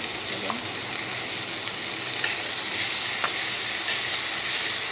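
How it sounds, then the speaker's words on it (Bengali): Chickpeas with salt being stirred gently in a hot pan, a steady loud sizzle and hiss with occasional soft scrapes of the spoon, no voices. "লবণ দিয়ে এবার হালকা হালকাভাবে নাড়া হচ্ছে"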